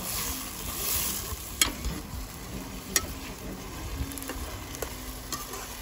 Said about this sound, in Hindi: अभी तड़का लग गया है और कुछ नहीं डाला है।